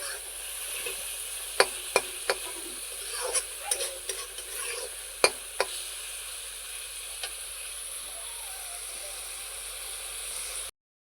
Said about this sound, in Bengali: চানাগুলো দিয়ে আমি এখানে ভালো করে নাড়িয়ে নেব।